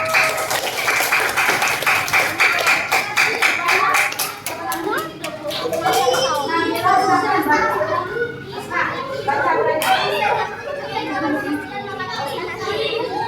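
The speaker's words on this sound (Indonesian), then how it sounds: "Tepuk tangan untuk Bayu dan Jawa" Fifth-grade children in a primary school classroom break into a burst of quick clapping that quickly dissolves into lively kids' chatter and voices filling the room.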